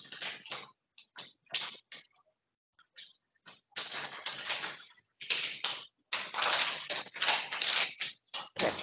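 Someone types on a phone, giving irregular bursts of soft, close tapping and clicking separated by short pauses.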